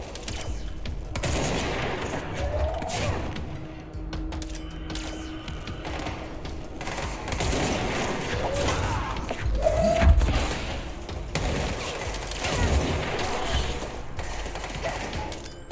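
Gunfire from a weapon in the video game Control, heard as a busy mechanical clatter of shots and thuds over steady game background noise, with one sharper burst standing out midway.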